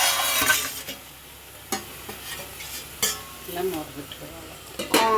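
Spoon stirring an egg curry with dried fenugreek leaves in a hot pan, with sizzling from the frying and several sharp metal scrapes and clinks against the pan at irregular intervals.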